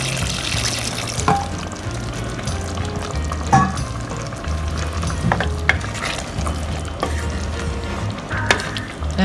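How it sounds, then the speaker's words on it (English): Warm water pours and stirs into simmering gravy in a pan, a steady sizzling, bubbling wash with repeated stirring scrapes and soft clinks throughout, no talk. "What I'm going to do now is add a little warm water because I want a thinnish gravy."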